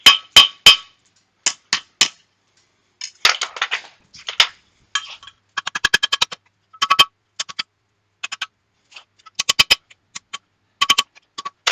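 Steel hammer tongs are flattened with a hammer, giving sharp ringing metallic strikes in quick bursts of two to five blows separated by pauses, close and loud, with no talking.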